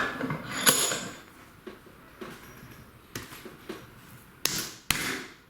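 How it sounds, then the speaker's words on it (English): The half nut of a quick release vice engages with a series of sharp metallic clicks and knocks, a few spaced taps ending in two louder clunks, slightly graunchy from dirt. "The half nut sounds a tiny bit graunchy"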